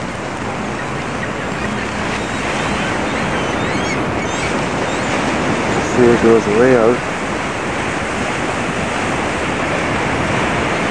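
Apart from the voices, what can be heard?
ocean waves at Myrtle Beach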